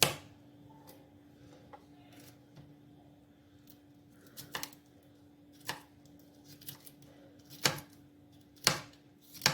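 A knife cutting carrots into long strips on a board, a few sharp, separated chops rising over a steady low hum, close by and without speech.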